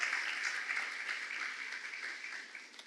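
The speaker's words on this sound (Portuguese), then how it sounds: "Pastor Silas, vem cá, enquanto a igreja também recebe esse servo de Deus com palmas, celebrando ao Senhor" A church congregation claps and applauds at a Mother's Day service as a pastor is welcomed, a dense, continuous wash of clapping that fades slightly over a few seconds.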